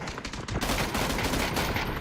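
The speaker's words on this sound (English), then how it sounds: "with the M16 on burst fire" M16 rifle shots on burst fire in the battle royale game PUBG, rapid sharp gunfire bursts close and loud, packed densely across the whole moment with no speech.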